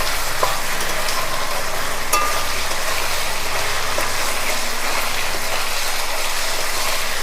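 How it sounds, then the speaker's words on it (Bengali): Ginger-garlic paste fries in hot oil in a pot with a dense, loud, continuous hiss and crackle, plus a few faint stirring scrapes, with no voices. "আদা রসুনটা তুলে দিচ্ছি এর মধ্যে দিয়ে একটু কষিয়ে নেব"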